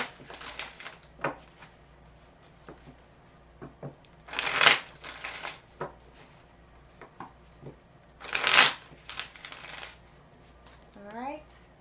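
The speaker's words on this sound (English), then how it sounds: "Quick shuffle." Two quick bursts of card shuffling, a crisp riffle each time, separated by quieter gaps with faint rustling and soft handling sounds in between.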